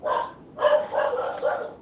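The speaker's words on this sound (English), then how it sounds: "my dog's barking" A dog barks close by indoors, one short bark followed after a pause by a quick run of several more.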